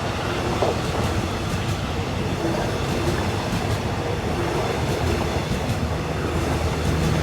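A Thai southern line special express train with air-conditioned sitting and sleeping cars passes near Ban Pong, a loud continuous rumble of wheels on rails with steady clatter throughout, no voices.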